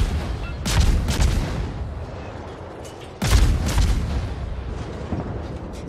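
Khabarovsk destroyer guns firing rapidly in World of Warships, two heavy salvos of booming shots in quick bursts, loud and close, with rumbling echoes between them.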